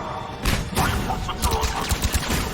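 Bursts of rapid gunfire and heavy impacts in the video game Mass Effect 3, a dense, loud fusillade that crackles through the whole short stretch in the middle of a firefight.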